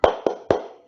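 Three sharp, bright hand claps from a group of second-grade children doing a teacher-led spirit clapping routine in a classroom, evenly spaced and close, each with a short ringing decay.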